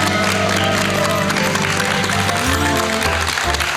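Studio audience on a Korean talk show applauds over music with sustained tones, the clapping a steady busy layer throughout, loud and close.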